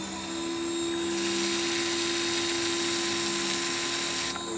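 A Ryobi 1600 PSI pressure washer spraying through its blue low-pressure soap nozzle, a loud steady motor drone with a hissing spray rising partway through, continuous and close with no voices.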